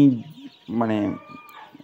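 Chickens cluck and squawk nearby in a couple of short, loud bursts, with someone speaking around them.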